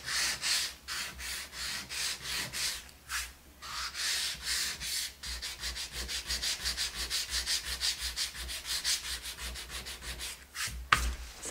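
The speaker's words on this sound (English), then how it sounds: "We're going to sand straight in a line." Painted light wood on a stenciled lazy susan made to look like a wine cask, sanded by hand in straight strokes, a close, even rhythm of scratchy back-and-forth rasps that quickens toward the end.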